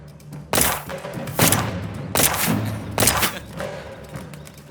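Gunshots are fired at bottles in a Tamil action thriller film, four loud, sharp blasts spaced about a second apart, each with a booming echo trailing behind it.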